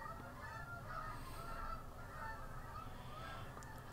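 Geese honking nearby outdoors, a continuous chorus of nasal calls layered over a low rumbling background, fairly faint overall with no talking.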